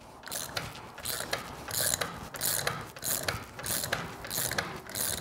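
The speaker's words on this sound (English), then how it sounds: "you can just start by tightening the thing with just a regular ratchet" Rapid clicking of a hand ratchet tightening the variator nut on a Vespa GTV scooter during a belt and variator service, in repeated bursts of close, crisp pawl clicks with no talk.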